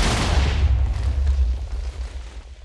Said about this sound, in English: let's see if we can put the compact TNT down there.